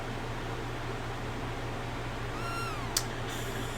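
Cat in Chrono Trigger gives a single short meow, a brief rising-falling cry over a steady hum of background music, followed by a small click.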